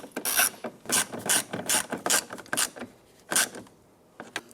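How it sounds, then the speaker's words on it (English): A hand ratchet clicks in quick bursts while snugging a door pull screw on a 2008-2013 Nissan Rogue, about ten short rapid ratcheting strokes up close, with pauses between. "Once that screw bottoms out, just snug it down gently."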